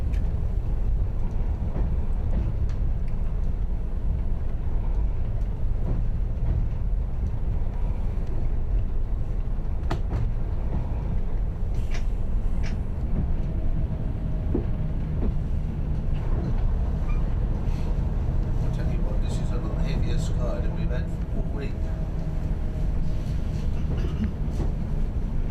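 A diesel multiple unit train on the Strathspey Railway runs steadily along the track, its engine rumble and wheel clatter continuous and fairly close throughout, with occasional sharper clicks and squeals over the rails.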